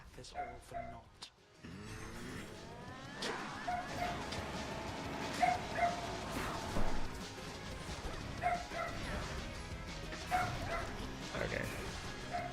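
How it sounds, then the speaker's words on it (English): A pet dog barks, yips and whimpers in a burst of repeated calls, mixed with busy, loud overlapping sound from elsewhere in the room. "Sorry about my dog barking."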